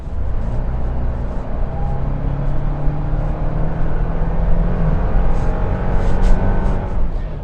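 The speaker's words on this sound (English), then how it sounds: "Now let's hit the accelerator here." A 2024 Toyota Land Cruiser hybrid with a turbo engine is floored, giving a loud, steady engine roar that builds with a faint whine as it pulls hard, running continuously with no talk.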